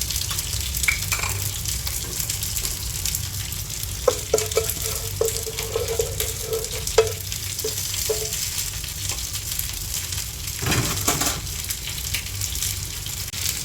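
Whole spices such as cloves and cinnamon frying in coconut oil in a pan, a steady close sizzle with occasional stirring scrapes and clinks, a brief louder burst near the end.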